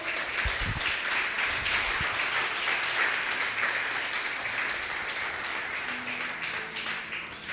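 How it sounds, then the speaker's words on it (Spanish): Applause from a church congregation fills the space during a sermon, a broad sustained patter of many clapping hands that holds steady and eases slightly toward the end. "dale un fuerte aplauso a Dios"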